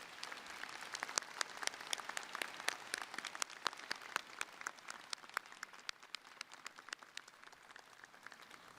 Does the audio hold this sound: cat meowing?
no